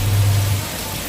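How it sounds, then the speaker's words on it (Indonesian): Rain falls in a steady, dense patter, loud and close, with no voices. "Air hujan yang turun ke bumi tersebut"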